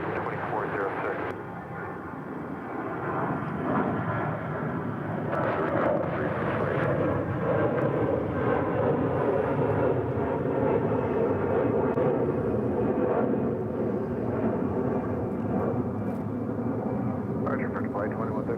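An American Airlines jet taking off from runway 36 right at Dallas Fort Worth airport, a steady loud engine roar building and holding for nearly twenty seconds, with radio talk over it.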